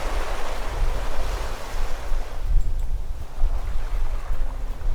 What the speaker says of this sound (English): I love the soothing sound of the ocean and how the water stretches as far as the eye can see.